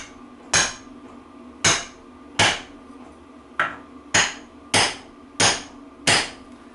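Eight sharp metallic taps of a hammer on a socket, driving a fork seal into the front forks of a BSA Starfire B25/B50 motorcycle. The blows are evenly spaced and close, with short ringing decays and no speech.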